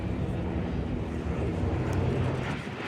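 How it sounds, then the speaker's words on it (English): Steady, loud broadband jet roar fills the stretch as a jet lifts off at the EAA AirVenture Oshkosh airshow, a continuous engine rumble with no break and no voices over it. "And here we go, Chris in the Blue Jet above, taking off."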